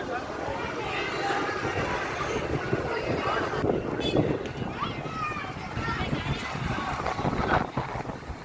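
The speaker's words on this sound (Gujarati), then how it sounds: "પવનના લેરકા આવે છે જો।" Gusts of wind buffet the microphone along a road near the Bharimata temple in Surat, a rough, rushing roar that swells and dips while voices of people talking carry through it.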